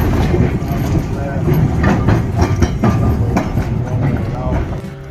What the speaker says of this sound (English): now that tram is going over there